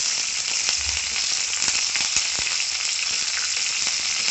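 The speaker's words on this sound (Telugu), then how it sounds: "ఈ తాలింపు అనేది మాడకుండా వేంపుకోవాలండి" Tempering of mustard seeds and curry leaves fries in hot oil for drumstick leaf chutney, a continuous loud, close sizzle with scattered crackles and pops and no talking.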